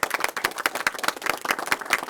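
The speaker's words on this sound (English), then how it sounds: "Let's give them all a big round of applause." Applause from a crowd gathered at a press event about funding to combat sex trafficking in Sacramento, with dense, sharp claps rippling steadily and close for a couple of seconds.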